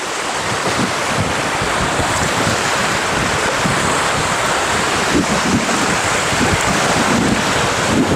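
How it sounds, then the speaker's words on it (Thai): Strong sea waves surge at the coast while heavy wind buffets the microphone, a loud, continuous rumbling wash with no speech. "โอ้โหคลื่นแรงลมแรงมาก"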